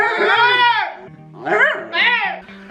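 A dog whining eagerly as food is prepared, high, wavering whimpers in three drawn-out bursts, close and loud, with people talking in the background.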